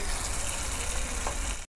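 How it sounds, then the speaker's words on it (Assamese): Drumstick flower fritters frying in hot oil, a steady dense sizzling hiss that carries on without talk before cutting off abruptly near the end. "তেল গৰম হৈছে ভাজি ল'ম"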